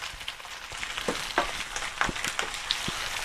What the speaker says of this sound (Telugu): ఆల్మోస్ట్ ఆనియన్స్ అన్నీ మంచిగా ఫ్రై అయిపోయినాయి, మెత్తగా అయిపోయినాయి.